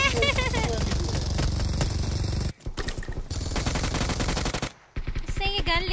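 Automatic gunfire from a PUBG Mobile match, in loud rapid bursts with a couple of brief pauses, mixed with voices talking over the shooting.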